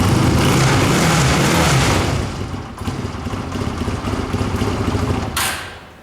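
A Honda CB 250 Two Fifty motorcycle idles close by with a steady, loud, low rumble and some clatter, then dips slightly and continues before fading out near the end.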